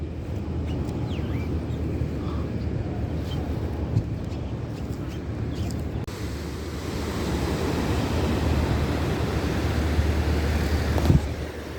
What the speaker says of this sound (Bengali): এখানে সমুদ্র একদম রাস্তার পাশে, সেই জন্য এখানে দীর্ঘ একটা জায়গায় ব্লকে রাখছে, যাতে সমুদ্রের ঢেউ যাতে রাস্তা